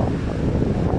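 High storm waves on the sea with strong wind, a loud, dense, rumbling roar of surf and wind gusts hitting the microphone, steady throughout with no talking.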